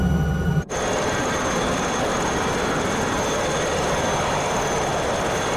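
An Alouette III rescue helicopter in Microsoft Flight Simulator 2024 drones steadily and loudly from a cabin perspective, a dense continuous rotor-and-turbine roar with a steady whine, broken only by one momentary dropout near the start.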